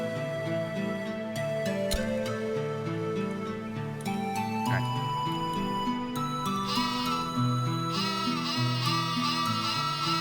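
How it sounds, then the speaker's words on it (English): Cartoonish sheep bleats from the video game Worms ring out over a steady, melodic electronic music track, repeating several times with no talking. "It's just the sheep sound from Worms."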